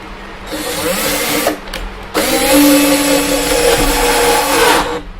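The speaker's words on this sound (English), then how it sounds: "So we will need to drill that in here." A power drill bores into the frame of a six-card Ethereum mining rig. It whirs loudly and close in two bursts, with a brief pause between them. The motor's whine holds steady, then tails off at the end.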